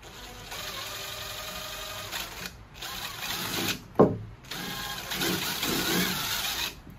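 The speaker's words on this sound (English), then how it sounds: "we're going to drill a pilot hole" Power drill boring a pilot hole into wooden floor joist blocking, a close whirring motor in several bursts with short pauses between, one sharp jolt midway as the bit bites into the wood.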